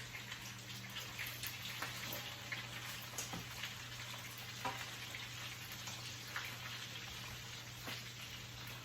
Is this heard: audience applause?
no